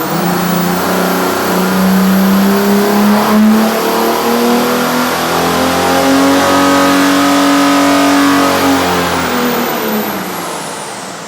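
A Mercedes OM606 diesel engine on an engine dyno revs up from idle, a loud close roar whose pitch climbs steadily over several seconds, holds at high revs, then eases off and fades as it winds down.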